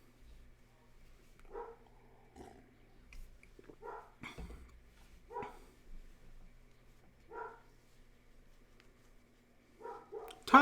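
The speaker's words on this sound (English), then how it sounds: "what are you barking at?" A dog barks in short, separate bursts spread across several seconds, moderately close and fairly loud over a quiet, low hum.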